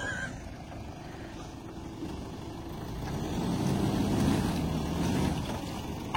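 A Toyota Hilux 4x4 engine labours steadily while climbing off-road on a road trip, a continuous broad rumble that swells louder midway and holds, with wind and rattling noise over it.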